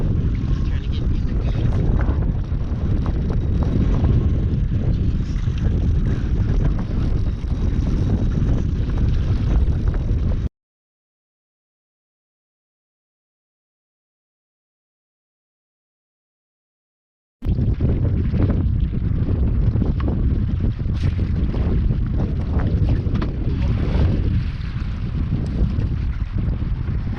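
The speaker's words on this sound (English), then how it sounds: "I'm sure you can see the wind is pretty crazy right" Strong wind roars over a kayak on Georgian Bay during a bass fishing tournament, loud constant buffeting rumble on the microphone, cut by a silent gap midway, with someone talking under it.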